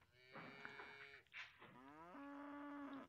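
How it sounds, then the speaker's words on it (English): A cow in the farming game Coral Island gives a long, clear moo in several drawn-out tonal phrases, loud and close, with a soft background music bed and no speech. "Pat the cow."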